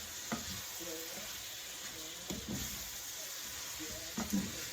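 Ginger and garlic sizzle softly and steadily in a pan for a ground beef dish, with a few stirring clinks and scrapes standing out over the constant hiss.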